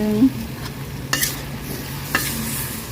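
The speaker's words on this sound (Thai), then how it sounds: "หมูของเราลงไปคั่วอีกรอบนึง" Pork stir-fries in a pan with sugar and fish sauce, giving a steady close sizzle broken by two sharp spatula scrapes against the pan.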